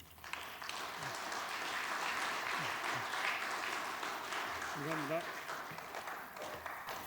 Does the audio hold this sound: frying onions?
no